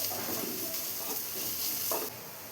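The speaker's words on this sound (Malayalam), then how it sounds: "ഇപ്പോൾ സവാള എല്ലാം ഒന്ന് വഴറ്റിയെടുത്തിട്ടുണ്ട്." Onions sauté in a pan for a breadfruit and chicken kurma, giving a steady, close sizzle with soft stirring scrapes and a brief louder stir near the end. No voices.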